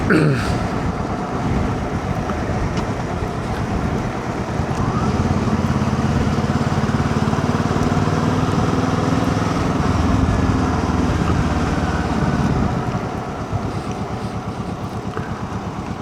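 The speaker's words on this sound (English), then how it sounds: "And there we have quite a few bikes" Motorcycles ride along a countryside road on the way into Finchingfield, heard as a steady, loud engine drone with rising and falling tones from passing bikes and wind rush throughout.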